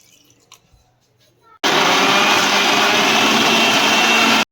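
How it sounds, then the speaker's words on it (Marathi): An electric mixer churns cream with added cold water to separate butter, switching on abruptly after a quiet stretch and then roaring steadily and loudly until it cuts off. "ह्याच्यामध्ये आता आपण थोडं थंड पाणी ॲड करून परत एकदा मिक्सर फिरवून घेऊया"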